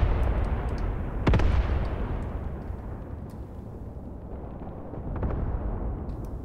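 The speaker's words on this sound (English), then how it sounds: "Artillery fire. Just where my tanks were parked once again." Artillery fire in the WWII tactics game Graviteam Tactics Mius Front: two sharp distant blasts a few seconds apart over a dense rumbling battlefield bed, with thin crackling bursts trailing each impact.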